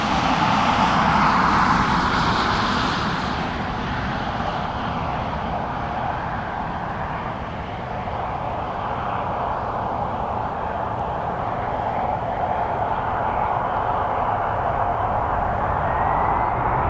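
A UPS Boeing 767-300ER airliner passes at a Portland airport, its jet engine roar broad and steady throughout, loudest at the start and then settling into a sustained, slightly fading rumble.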